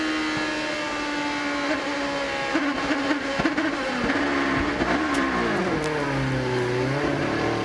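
IndyCar race car at the 2005 Indianapolis 500 getting on the power, its engine note rising and sweeping in pitch as it accelerates, loud and close against a broadband race-crowd wash, with no talking.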